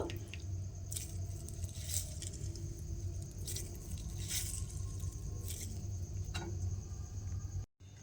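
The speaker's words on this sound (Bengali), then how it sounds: "আমি কিন্তু পুরো আলুটা থেকে এইভাবে চেপে চেপে জলটা বের করে নেব" Grated potatoes squeezed by hand to press out their water, giving a steady wet squishing and soft crunching texture with faint clicks, close and continuous throughout with no talking.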